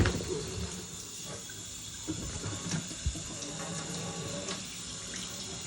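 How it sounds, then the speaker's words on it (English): Tap water runs steadily into a kitchen sink as it is rinsed out after washing turnip and mustard greens, a continuous splashing wash with faint bird coos in the background. "you want to make sure you rinse out that sink really good"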